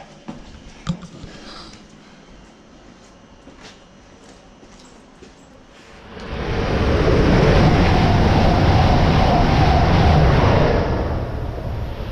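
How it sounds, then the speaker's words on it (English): An East Midlands train ride from Bedford: quiet carriage rumble at first, then a loud, steady rushing roar as the train picks up speed, continuing to the end without talk. "last train home"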